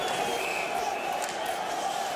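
A raucous Swiss hockey crowd at a 2022 IIHF World Championship game between Canada and Switzerland keeps up a dense, continuous arena roar as it reacts to a penalty call, with a commentator talking over it.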